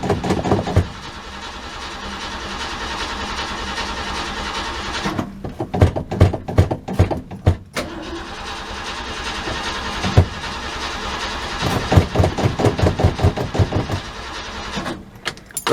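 1967 Ford Galaxie V8 engine, freshly worked carburetor, running rough while warming up: a steady loud idle broken by stumbles and sputtering bursts of revs, close by with no talk.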